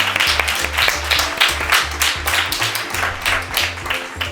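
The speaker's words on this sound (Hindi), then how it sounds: "आइए साहिल के लिए ज़ोरदार तालियां" A studio audience of children claps for Sahil on a kids' show, a dense run of hand claps carrying steadily throughout, with low tonal sound beneath.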